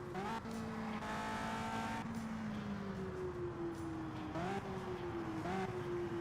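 Race car engines from the 1965 Riverside 300 in Indianapolis 500 Evolution whine loudly and constantly, their pitch rising and falling as the cars shift gears and pass close by.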